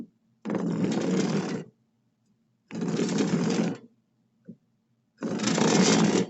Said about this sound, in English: Draw the saw back as I go.